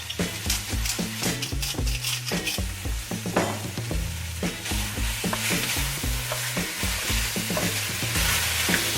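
Beef for a daube stew sears in a hot pan with a steady, close sizzle and crackle, while a utensil stirs and scrapes the meat in a fairly regular rhythm throughout.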